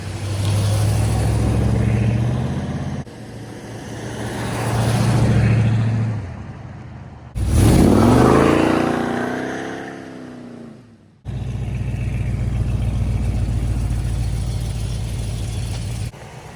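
A 1971 Dodge Super Bee with a 383 Magnum engine cruises through its old original exhaust pipes and mufflers, a loud, near, steady rumble that swells and eases with throttle, with a higher revving sweep midway.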